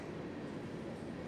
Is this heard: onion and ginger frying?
no